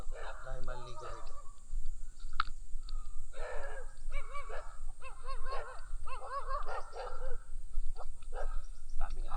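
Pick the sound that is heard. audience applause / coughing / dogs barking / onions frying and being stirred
dogs barking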